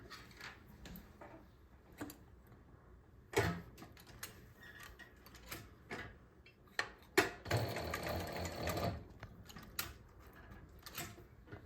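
A sewing machine stitches bias binding onto a garment in short bursts, its rapid mechanical ticking starting and stopping, with a longer steady run of stitching near the end; close and clear, with no talking.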